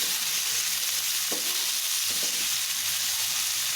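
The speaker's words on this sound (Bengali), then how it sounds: "মাছটা ভাজা হয়ে যাবে" Rohu fish fries in an oil-filled pan, giving a steady close sizzle with a few brief stirring or scraping clatters and no talk.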